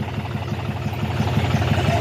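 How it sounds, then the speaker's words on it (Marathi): A tractor engine runs steadily nearby in a farm field during sowing, with a low, regular chugging throb and no pauses. "चालला आहे ट्रॅक्टर पेरणीसाठी"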